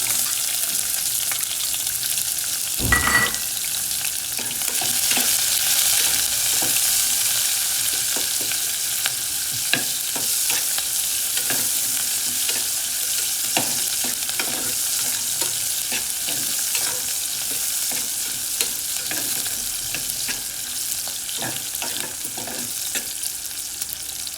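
Onion with curry leaves frying in a pan gives a continuous low sizzle, broken by scattered sharp scrapes and knocks of a spoon stirring, with one louder clack near the start.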